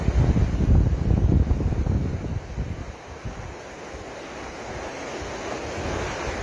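River water rushing over large boulders at Rangpani, Sylhet, a loud broadband roar that eases after the first few seconds into a steadier wash, with wind buffeting the microphone.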